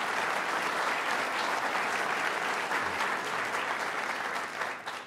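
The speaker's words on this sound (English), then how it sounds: "Let's give him a round of applause." An audience at a governor's inaugural address applauds for Senator Dean Skelos, with dense, steady clapping that holds strong throughout and tapers slightly at the end.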